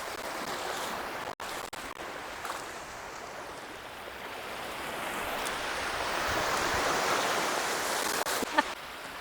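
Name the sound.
strong sea waves at Varsoli Beach, Alibag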